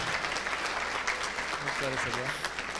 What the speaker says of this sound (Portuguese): Mais uma salva de palmas aí para o mestre.